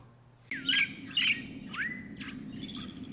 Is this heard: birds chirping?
yes